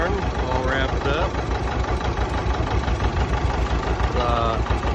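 A John Deere 630 tractor engine idles steadily on a farm, a continuous loud low rumble with a fast regular beat that runs throughout, while a person talks over it.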